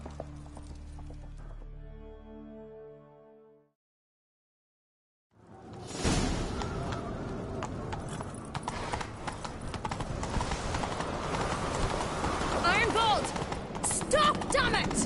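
Horse galloping in The Witcher: Wild Hunt video game, a fast steady run of hoofbeats that begins after a short silence and sits under game music, wind and rushing movement, with no talking heard.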